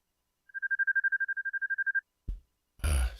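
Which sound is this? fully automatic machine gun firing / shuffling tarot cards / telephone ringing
telephone ringing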